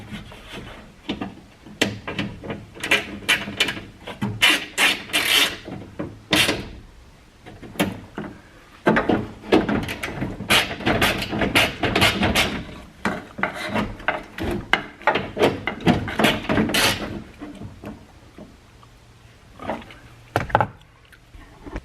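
A car window regulator worked into the door track during a repair, giving repeated scraping, rubbing and knocking bursts of metal and plastic, loud and close, with brief pauses between bouts.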